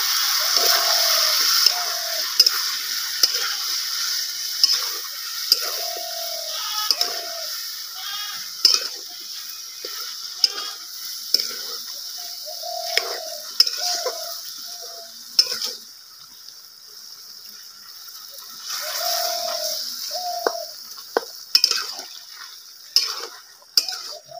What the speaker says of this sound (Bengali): এখন আমি গুড় দিয়ে নাড়ে নেব, ভালো করে নাড়ে চাড়ে নেব